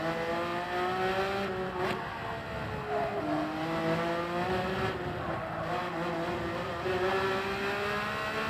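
Race car engine in Gran Turismo 7 at Yas Marina, held at full throttle with a steady high-pitched whine that climbs through the gears, with brief dips at shifts, loud and continuous with no talking.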